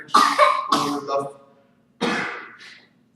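Three harsh, close coughs: two in quick succession, then a pause and one more, with no other sound around them.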